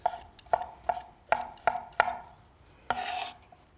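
Knife chopping a grilled, roasted pepper into cubes on a cutting board: six crisp, evenly spaced chops, fairly close, then a brief scraping sweep across the board near the end, with no talking.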